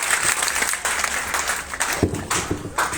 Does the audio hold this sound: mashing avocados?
no